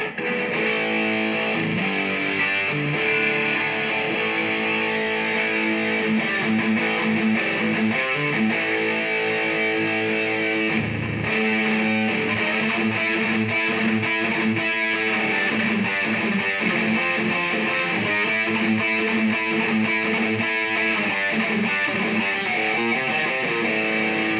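Distorted electric guitar plays sustained lead lines and bends through a Boss Katana Artist MkII amp on its lead channel, loud and continuous, with a short pause midway and no talking.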